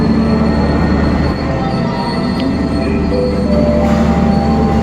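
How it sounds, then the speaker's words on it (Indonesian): The Argo Semeru train, hauled by a CC206 locomotive, grinds through a station with loud, sustained metallic wheel squeals in thin high tones over a heavy rumbling bed, close by and without talk. "Argo Semeru jalur 2, lokomotifnya CC206"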